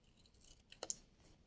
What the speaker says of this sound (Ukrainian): Тепер ножицями трошки закруглюємо кути прямокутника.